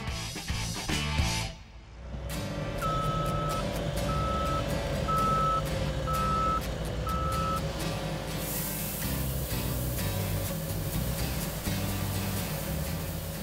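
A big truck delivering crushed limestone to a landscaping site backs up with a steady run of five evenly spaced reversing beeps over a loud diesel engine, followed by continued engine noise and clatter.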